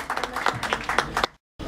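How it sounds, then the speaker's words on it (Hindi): Brief audience applause at a Miss Himalaya beauty contest, a short burst of clapping that cuts off abruptly, then returns faintly. "जोरदार तालियां हो जाए।"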